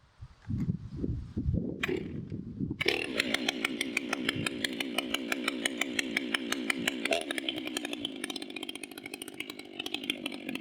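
A large 92 cc Stihl chainsaw with a 36-inch bar and opened-up exhaust port roars loudly and steadily after a brief sputtering start, its engine buzzing at high revs with slight pitch shifts throughout.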